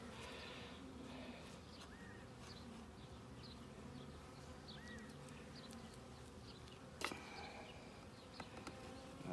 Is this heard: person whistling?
no